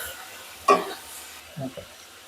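Chopped tomatoes drop into a hot pan for a cauliflower tomato curry with a sudden loud sizzle. Shorter scraping bursts of spoon stirring follow, set against a quiet kitchen background.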